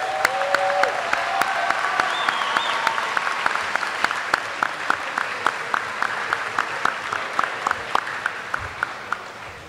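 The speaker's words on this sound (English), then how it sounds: "Let's give a big round of applause to the U.S." A high school crowd gives a big ovation for the U.S. Army at an All-American presentation, a steady wash of clapping with a few sharper, louder claps punctuating it throughout.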